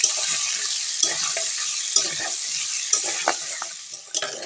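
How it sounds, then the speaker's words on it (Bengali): Potatoes frying with salt and turmeric in a pan for aloo dum, a steady close sizzle with periodic scraping stir strokes about once a second. "আলুটা এবার ভালো করে ভেজে নেব।"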